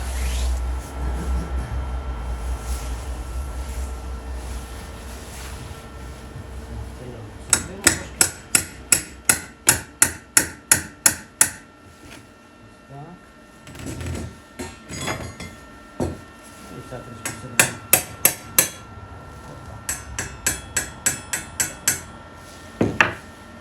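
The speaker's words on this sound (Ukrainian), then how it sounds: "молоток. Молоточок." Rapid bursts of sharp metallic hammer taps, several rhythmic runs separated by pauses, close and loud over a faint hum.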